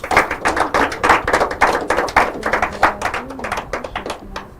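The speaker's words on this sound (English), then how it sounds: "Well, if you want to clap, we can as well clap well." An audience at a school quiz and debate competition claps, a dense burst of hand claps that starts strong and gradually thins out over several seconds.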